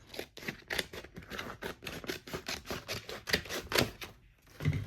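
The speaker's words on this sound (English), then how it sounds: "I like to cut my vinyl while it is still on the mat." A Cricut machine cuts vinyl still on its mat, giving quick rapid clicking and whirring bursts in an uneven rhythm, fairly faint and close, with a brief pause near the end.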